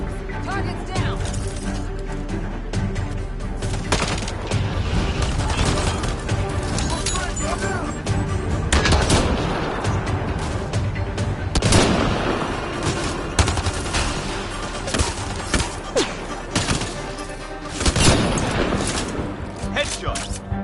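Sustained gunfire from a Mass Effect Andromeda combat sequence, dense overlapping bursts of automatic weapons and heavier booms filling the scene loudly and continuously, with voices calling out amid the fight.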